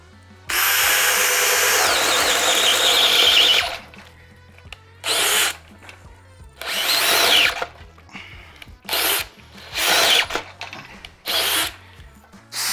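DeWalt DCD800 cordless drill boring into wood with a speed bore bit on speed 1: a long loud grinding run, then several short bursts as the bit stalls and restarts, close and with no talking.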